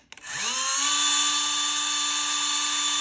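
An iFlow motorized ball valve starts after a remote button press: a couple of clicks, then a motor whine that rises in pitch and settles into a steady, close, continuous hum.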